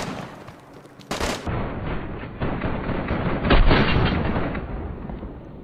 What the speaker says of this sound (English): This is about a 100 meter shot with an SKS using a red dot on the screen